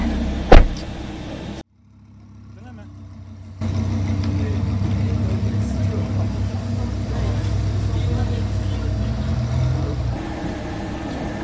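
Lamborghini sports car driven at full throttle in third gear at the Mas du Clos circuit in Aubusson, Creuse: a loud, steady engine roar heard from inside the car after a brief thump and a short lull.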